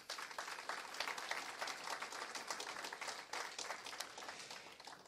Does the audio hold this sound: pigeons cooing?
no